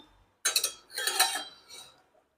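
Metal lid lifted off a pan of bottle-gourd and millet-flour thalipeeth, a couple of quick clanks followed by a brief rattle and a softer clink, close and alone.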